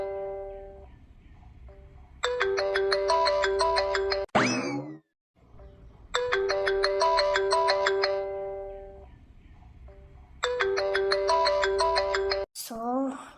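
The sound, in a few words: phone ringtone, incoming call on personal phone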